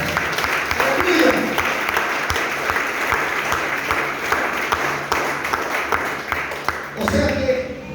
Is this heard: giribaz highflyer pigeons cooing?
no